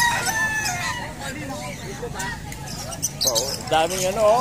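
Chicks and chickens at a poultry farm peep and cluck close by in a busy, continuous chatter, with a rooster-like call rising near the end, while people talk over the birds.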